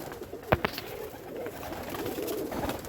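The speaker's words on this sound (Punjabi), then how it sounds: "ਇਹਦੇ ਵਿੱਚ ਕਲਸਰੇ ਕਬੂਤਰ ਆ" Kalsara pigeons coo softly and steadily at low pitch, fairly faint, with a couple of sharp clicks early on.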